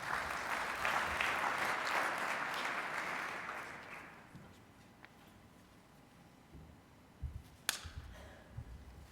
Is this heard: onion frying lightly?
no